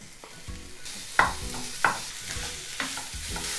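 Ground beef frying with softened onions in a hot pan crackles and sizzles, broken by several sharp scraping and stirring knocks from a utensil, loud and close.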